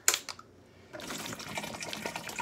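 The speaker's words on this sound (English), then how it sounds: "Add some more water." Water pours into a detox water container, starting with a few clinks and handling knocks, then a steady, soft trickle and gurgle of filling liquid nearby.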